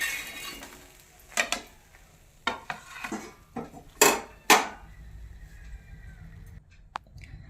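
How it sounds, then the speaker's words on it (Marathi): Roasted eggplant for spicy baingan bharit is moved onto a plate, making a few sharp scrapes and clinks of utensil on dish over a quiet kitchen background, with no talking. "मी प्लेटमध्ये काढून घेते"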